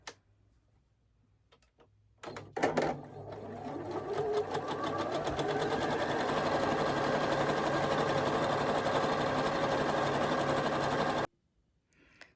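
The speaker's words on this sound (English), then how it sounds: "we're going to sew on either side of this diagonal line using that seam allowance" A sewing machine runs steadily for about nine seconds, stitching along a diagonal line on quilt pieces with a quarter-inch seam foot, its rapid even needle ticking loud and close after a few handling clicks, then stopping abruptly.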